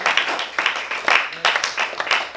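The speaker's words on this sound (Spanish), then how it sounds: "debe de darle un aplauso a Dios en esta tarde" A church congregation claps during a Spanish-language sermon, a short burst of uneven, loosely rhythmic clapping with distinct individual hits, fairly close and moderately loud.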